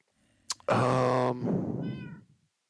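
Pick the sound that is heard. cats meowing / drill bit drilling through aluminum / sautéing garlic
cats meowing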